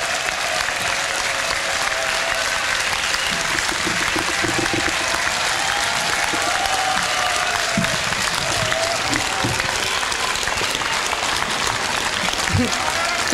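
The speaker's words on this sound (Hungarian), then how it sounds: "Köszöntse nagy taps Kunhalmi Ágnest" Audience applause greets a Hungarian Socialist Party politician arriving to speak at a Day of Resistance event, with dense continuous clapping at a steady level throughout and some crowd noise mixed in.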